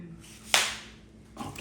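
Cardboard packaging gives a sharp crackling snap as a pool table is flipped upright on its legs, followed by a fainter rustle a moment later.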